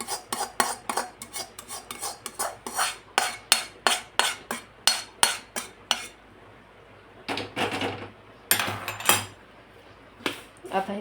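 Roasted semolina scraped from a pan into a coconut mixture, with a quick series of sharp metal spoon-on-pan clinks and scrapes, close and rhythmic, then a few scattered knocks after a brief pause.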